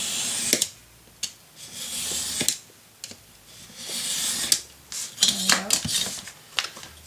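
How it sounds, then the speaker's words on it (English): Paper being cut along a measured line for a Christmas gatefold mini album, with several soft rasping cutting strokes and small clicks of the cutter, close and quiet, alternating with a person talking. "I'm going to cut it right along this"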